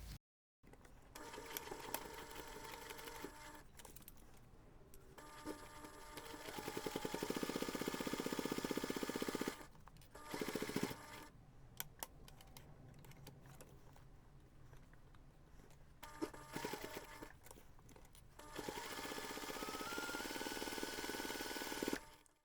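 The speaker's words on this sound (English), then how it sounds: "Then you're going to take this to the machine and we're going to stitch around all 4 sides." A domestic sewing machine stitches around a bag's recessed zipper panel, its fast whirring motor running in long steady bursts with brief pauses and a lighter stretch in the middle, close and fairly quiet.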